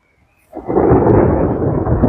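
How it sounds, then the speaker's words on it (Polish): Thunder from an approaching storm over a vineyard in bloom, a loud deep rumble that starts abruptly after a brief quiet and rolls on steadily without breaking, with no talking. "Nie wiem czy to słyszycie, bo mam mikrofon, ale idzie burza."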